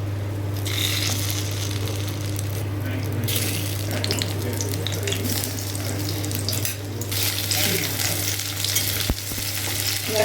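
Egg-dipped brinjal slices frying in hot oil, a loud dense sizzle that runs steadily throughout with brief surges as pieces go in, close up and without voices.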